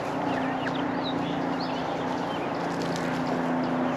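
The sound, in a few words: chicken clucking, probably a rooster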